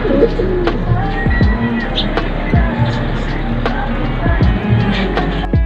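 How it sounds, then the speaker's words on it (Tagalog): Racing pigeons coo repeatedly in a loft, soft throaty calls overlapping in a steady murmur with a continuous low background hum, fairly close. "Ito si Blue Bar mga kalapati, kapatid din ni Super Swerte at ni Dalubhasa"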